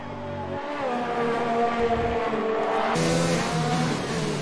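Formula 1 race cars at the Australian Grand Prix scream past one after another, engine notes rising and falling as a fresh car joins partway through, loud and close, with no talk over them.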